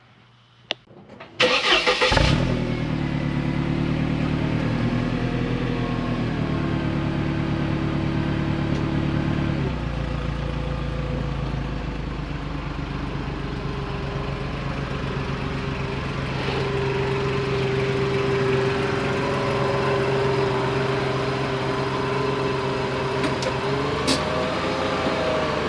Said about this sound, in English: Just finished warming up the SLK and I brought it back into the garage.